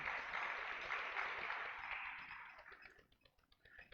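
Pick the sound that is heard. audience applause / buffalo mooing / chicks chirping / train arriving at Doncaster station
audience applause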